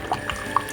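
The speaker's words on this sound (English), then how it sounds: "And some water, half glasses of water." Water poured for a smoothie into a blender, coming through as a few short liquid splashes and drips, close and fairly clear, with no talking.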